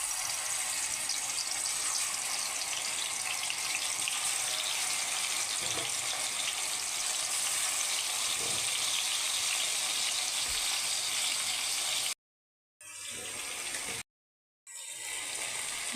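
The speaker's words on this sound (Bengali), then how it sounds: "তেলটা এখন গরম হয়েছে, এখন মাছগুলো দিয়ে দিই।" Fish frying in hot oil in a home kitchen, a steady, dense sizzle running loud and continuous, broken by two brief drops to near silence near the end.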